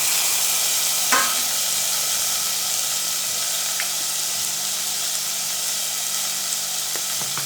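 Onions and tomato fry in a pan for an egg and flat-bean palya, giving a steady close sizzle with one sharp utensil clank early on and light stirring scrapes throughout.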